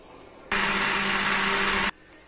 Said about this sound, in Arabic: انا كده هضرب الاول اللبن والزيت مع بعض